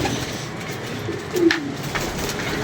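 Pigeons kept by a Lahore pigeon fancier coo faintly amid a steady hiss of outdoor ambience, with one brief louder swell near the middle.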